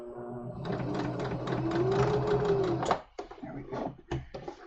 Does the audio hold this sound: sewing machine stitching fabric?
yes